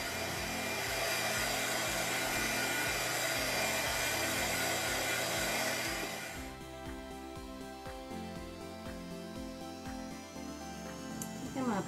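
A dryer blows hard and steady on freshly painted craft work for a western horseshoe wall hanging, then shuts off about halfway, leaving a softer lingering hum.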